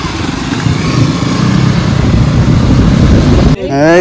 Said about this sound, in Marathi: अशा प्रकारे आम्ही आता गाड्या इथनं सोडत आहोत साई मंदिराजवळ